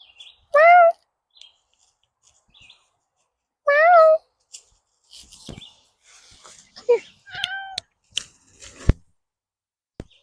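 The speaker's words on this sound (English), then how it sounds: "Hey, Adventure Kitty" Two short meows from a cat, spaced a few seconds apart and fairly close, followed by scattered clicks, thumps and a brief chirp-like call in a quiet room.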